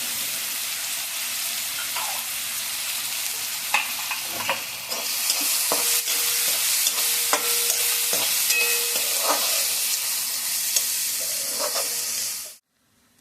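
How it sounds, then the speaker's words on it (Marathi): Garlic and onion sauté in a hot pan for a bean-sprout (birde) curry, a steady bright sizzle with frequent scraping stir clicks, the frying growing louder midway before cutting off near the end. "लसूण आणि कांदा जो आपण घेतला होता तो आता आपण चांगला खमंग परतून घेणार आहोत"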